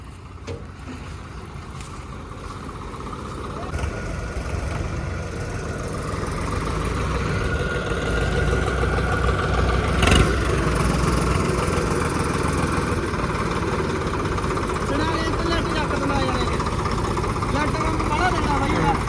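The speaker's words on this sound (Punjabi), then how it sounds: "ਉੱਤੇ ਚੜਾ ਦੂ ਟਰੈਕਟਰ ਪਾਸੇ ਹੋ ਜਾ" A tractor engine idles steadily and continuously throughout, running at a constant moderate loudness while people talk over it on a farm site where soil is being hauled into a school.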